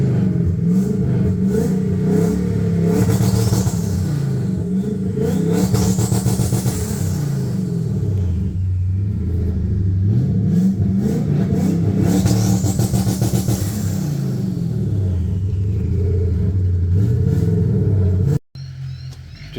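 A loud turbocharged V8 engine in a Q45 revving up and down repeatedly, rising and falling in pitch, close by, then cutting off abruptly near the end.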